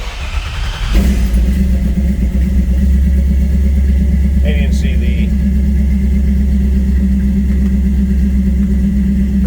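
A 1967 Chevrolet C10 pickup with a 6.0L V8, aluminum radiator and dual electric fans, cranks and catches after about a second, then settles into a loud, steady, rumbling idle close by, with a brief faint chirp midway.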